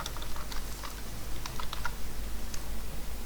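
Keys click on a computer keyboard in quick, uneven bursts of typing, close and fairly crisp over a low steady hum, with no voices.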